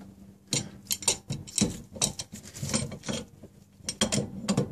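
A large C-clamp is slowly screwed in against a brake pad to push back the caliper piston on a Honda Accord's rear brake, giving close, irregular creaks, clicks and metallic ratcheting bursts.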